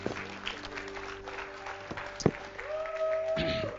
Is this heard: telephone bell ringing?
no